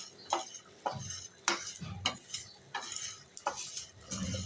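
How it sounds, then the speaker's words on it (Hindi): Garam masala spices dry roasting in a pan, stirred with a spoon in a run of short scraping and tapping strokes over a soft sizzle, close and quiet, no talking. "अब बारी आती है गरम मसाले को भी भूनने की"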